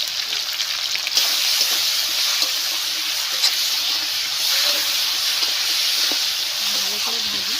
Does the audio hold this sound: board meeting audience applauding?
no